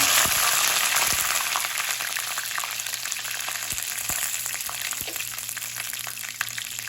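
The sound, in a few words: dried red chillies and curry leaves frying in hot oil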